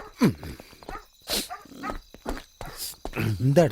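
A dog barks at night at a house in a Malayalam film scene, with sharp, scattered barks mixed among voices of people talking.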